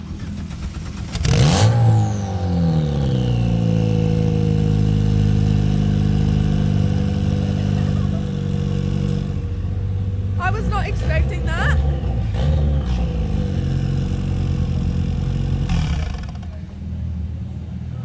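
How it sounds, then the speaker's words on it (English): A Ford engine cranks and fires up with a loud roar, then settles into a steady, strong idle with a couple of revs. People talk and react over the engine, which runs close by throughout. "We can turn on the ignition and fire it up."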